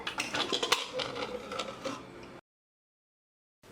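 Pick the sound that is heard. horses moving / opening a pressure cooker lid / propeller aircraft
opening a pressure cooker lid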